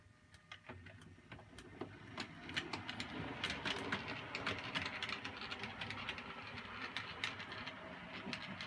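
A departing train at the Kelberg signal box demonstration, heard as a steady mechanical rumble and rattle with repeated clicking wheel-on-rail knocks that hold at moderate level throughout, no talking over it.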